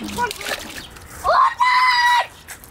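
Loud, drawn-out squawking calls from a duck, two harsh honks in quick succession, close by, with a voice just before.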